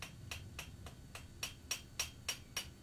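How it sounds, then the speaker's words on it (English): Hammer blows on hot steel at an anvil while forging a farrier's knife, about ten sharp, evenly spaced metallic strikes that grow louder toward the end, with no talking. "towards the edge of the anvil there so I don't hit the anvil with my hammer"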